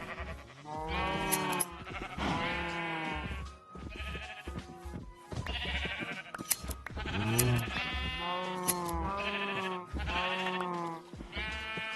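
Several sheep bleat repeatedly in a video game, with overlapping calls close and loud, separated by short pauses.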